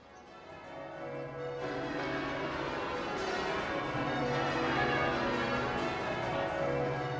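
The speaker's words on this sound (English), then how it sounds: "Church bells rang out across Britain in celebration of this first victory" Several church bells across Britain peal together in a continuous, overlapping clangor, loud and resonant, ringing on without pause in celebration of a wartime victory.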